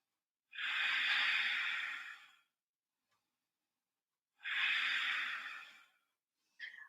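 Two long, steady breaths taken while holding a downward-facing dog yoga pose, each a soft airy rush lasting about two seconds with a quiet pause between, followed by the brief start of a third breath.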